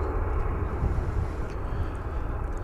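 A 10-year-old Boeing 737-8 jet airliner at DFW Airport sounds as a steady, fairly loud low rumble and roar with no speech over it.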